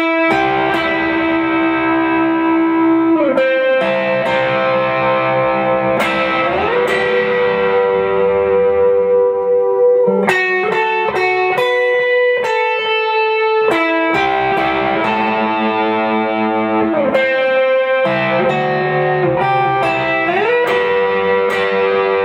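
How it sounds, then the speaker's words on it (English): Distorted electric guitar solo through delay, from a worship song, with sustained bending lead notes, slides and echoing repeats over a steady backing, loud and continuous throughout. "So now I'll play the solo with distortion and delay."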